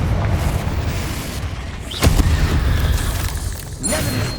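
Confringo spell explosions in Hogwarts Legacy on PS5, with a sharp booming blast at about the midpoint and a second burst near the end over a low, rumbling game background.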